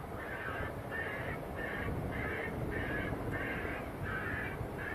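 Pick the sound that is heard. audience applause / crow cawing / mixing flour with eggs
crow cawing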